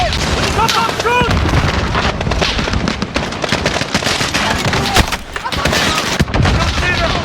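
Video game battle with dense, loud gunfire and explosions that rattle on continuously and overlap, while voices shout over the combat.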